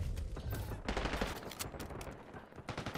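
Dense, continuous automatic gunfire from a Call of Duty Black Ops 6 multiplayer match, rapid overlapping bursts filling the whole stretch at a steady loud level with a faint voice in the background.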